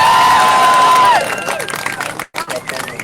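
Crowd at a political freedom rally in Elmer cheering and whistling loudly at first, then fading to a looser murmur of voices and scattered claps.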